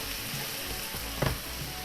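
Bacon frying in a pan with white wine vinegar, a close steady sizzle with a brief louder crackle near the end and no talking.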